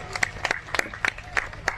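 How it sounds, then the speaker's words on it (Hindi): Audience at a community social-upliftment seminar and welcome ceremony in Dankaur clapping to welcome a guest, a short spell of several distinct claps in an uneven rhythm, fairly sparse rather than a full ovation. "इसके लिए मैं चाहूंगा आप लोग ताली बजा के उनका स्वागत करें।"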